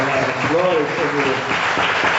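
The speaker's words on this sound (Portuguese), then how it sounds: "Olha aí que o povo te aplaudindo, Senhor." A church congregation at an evangelical deliverance service applauds, with clapping blended under a preacher's loud, sustained speaking voice.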